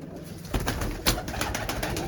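Soft, low cooing from pigeons repeats through the clip, with light rustling and fluttery noise behind it.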